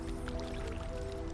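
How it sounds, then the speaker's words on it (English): Water splashes and drips in the video game Haven, giving soft squishy liquid sounds over steady tonal game music in one brief, continuous burst. "That's water."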